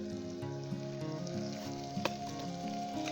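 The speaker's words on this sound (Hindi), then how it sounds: "ऑयल हमारा गर्म हो चुका है तो अभी हम इसके अंदर प्याज ऐड कर देंगे" Onions hit hot oil in a pan for baingan bharta and sizzle with a steady, fairly soft hiss, with background music playing throughout.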